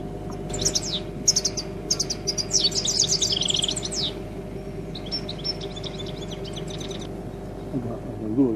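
Caged goldfinch and other finch call birds trill and chirp in quick bright bursts over several seconds, lively and fairly close, with a low rumbling background and faint talk underneath.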